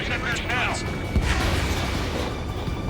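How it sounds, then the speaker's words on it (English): Rumbling booms and bursts of gunfire-like blasts from jet combat explosions in Ace Combat 7: Skies Unknown, with someone talking over them. "Oh, look at them explosions."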